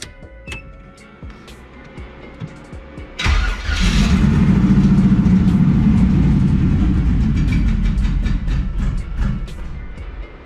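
An LS-swapped twin-turbo Mustang cranks and catches, then settles into a loud, steady, rumbling idle close by. A few clicks come before the start, and the idle wavers slightly near the end.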